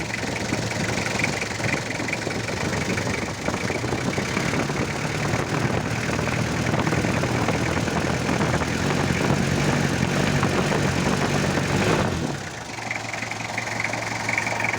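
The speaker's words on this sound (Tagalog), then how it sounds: "ganito na unit ay talaga maingay ang makina niyan" A Toyota Revo 2L diesel engine idles steadily and loudly, with a constant low rumble and mechanical clatter; near the end the tone drops briefly, then resumes.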